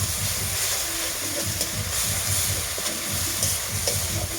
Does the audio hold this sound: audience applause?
no